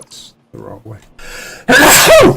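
A single loud, sharp sneeze bursts out near the microphone right after a few words of speech, closing the clip.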